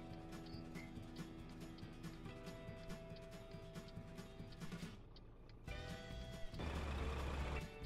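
Euro Truck Simulator truck reversing, with steady repeating backup beeps over a constant engine rumble and a burst of louder engine and air noise near the end.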